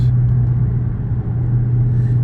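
A Dodge Hellcat's engine idles in a low, steady, loud rumble, held close and unbroken throughout.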